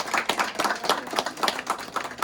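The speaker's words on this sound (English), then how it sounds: "let's give Dana some applause here" Brief burst of applause from a small group at a cooking demonstration, quick overlapping claps with no voices, fairly close.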